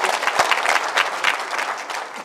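An audience at a Punjabi political rally breaks into applause, a dense burst of close hand-clapping that stays strong for a couple of seconds with a little crowd noise beneath.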